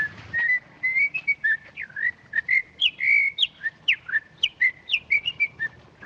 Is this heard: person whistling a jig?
yes